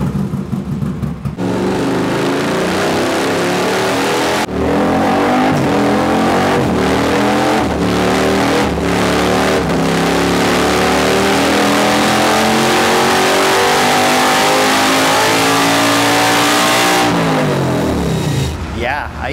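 Bagger race motorcycle engine pulled hard on a dyno during race prep for Daytona, a loud sustained roar climbing steadily in pitch through long full-throttle runs, cutting off and winding down at the end.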